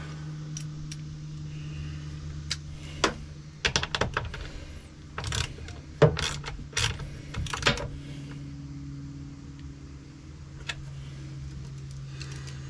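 Clicks and ratcheting taps from a wrench working on the fuel filter of a 2019-2022 Ford F350 dually with a 6.7 L Power Stroke diesel, coming in irregular bursts over a low steady hum, close and fairly quiet.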